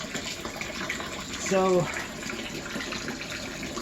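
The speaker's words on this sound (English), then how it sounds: "I can actually turn on this water and see how the pressure is" A kitchen tap is turned on to check low water pressure, giving a steady rushing flow throughout while someone briefly speaks over it.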